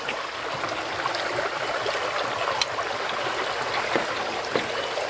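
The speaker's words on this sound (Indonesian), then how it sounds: "Bisa kalian lihat ini, sungainya sangat jernih sekali." A clear river flows steadily over stones, a continuous close rushing and trickling wash with a few small splashes and no voices.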